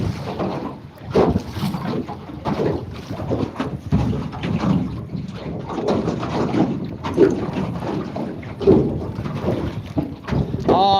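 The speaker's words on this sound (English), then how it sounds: "Bloody wind." Wind gusting over a small boat on open water, buffeting the microphone with a constant rumbling roar that rises and falls, with voices talking underneath.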